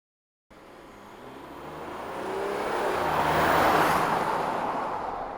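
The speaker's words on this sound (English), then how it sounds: "Say I need the sound of a car passing by." A car sound effect passes by, rising gradually from a distant hum into a loud, close broadband whoosh that peaks and then begins to fade.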